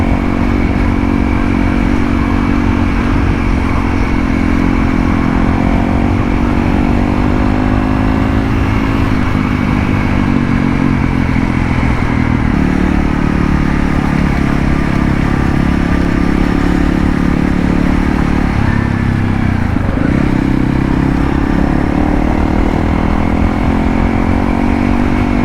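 Honda CRF 300L motorcycle engine running steadily while riding, a continuous droning roar with subtle rises and dips in revs, close and loud throughout with no talk.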